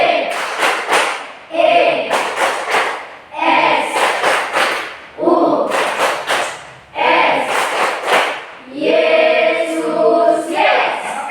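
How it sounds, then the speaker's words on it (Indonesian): A classroom group claps hands in rhythmic bursts, several loud patterned rounds of clapping separated by short pauses, with voices shouting and chanting along between and over the claps. "melakukan suatu tepukan tangan supaya kita bisa mengulang kembali kita punya semangat"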